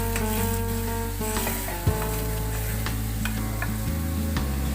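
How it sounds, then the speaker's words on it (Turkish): Grated tomato goes into garlic frying in butter in a pan, giving a steady close sizzle over a constant low humming drone, with no talking. "Hemen domatesimi döküyorum rendelediğim."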